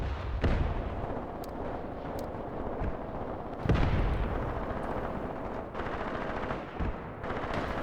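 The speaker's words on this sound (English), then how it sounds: "There's the incendiary. Together with mortars." Mortar and incendiary shells fire and burst in a Graviteam Tactics battle, a dense rolling barrage of booms and thuds with several sharper loud blasts throughout.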